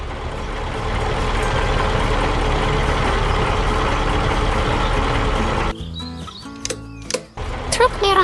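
Pink cartoon truck hauling cardboard boxes one by one through a spacious warehouse: a steady, loud engine rumble for about six seconds, then it cuts off abruptly into a stretch of scattered clunks and short sharp effects.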